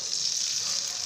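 Chopped onion in hot oil for a brinjal curry, a bright, even sizzle held for about a second, close and steady with no voices.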